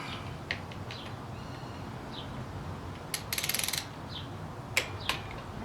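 A torque wrench tightening the bolts of a Fuel Moto Stage 1 air filter on a 2016 Harley-Davidson Road Glide Ultra, giving faint ratcheting clicks and a short clicking burst midway over quiet background, with no speech.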